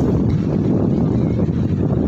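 Cool wind at a seaside beach resort on the Gulf coast in Dammam, Saudi Arabia, rushes in a steady, dense roar over the microphone, with faint surf or water beneath.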